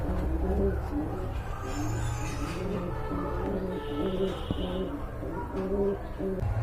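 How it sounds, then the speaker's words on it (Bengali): A pair of khaki pigeons in a pigeon sale coo together with soft, low repeated calls throughout, close by, over a steady background murmur. "চমৎকার এক জোড়া কবুতর।"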